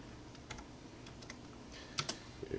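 Faint, sparse keystrokes on a computer keyboard while writing in LibreOffice Writer, a few scattered clicks then a quicker cluster of taps near the end, with no voice.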